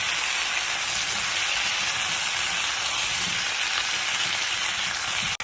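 A dense, loud hiss of vegetables frying in a hot pan with softened tomatoes, steady and close for the whole stretch, ending in a brief cut.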